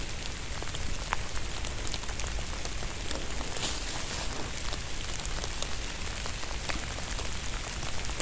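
Steady rain pattering on a surface, with scattered distinct drops over a constant hiss, no voices.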